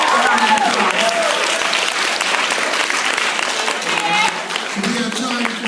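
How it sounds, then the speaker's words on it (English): Audience applause at a hip hop history program, loud and sustained clapping from a full room, with voices and cheering mixed in throughout. "So give yourselves a round of applause."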